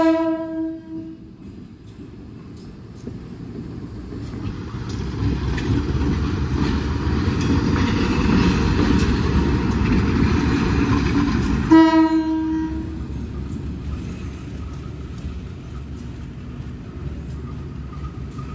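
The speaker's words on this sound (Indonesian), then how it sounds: "Oke, ini lokomotif maju lagi." A red and blue locomotive moving forward lets out a loud, sustained horn blast at the start and again after a rumbling pass, with steady rolling engine and rail noise between the blasts.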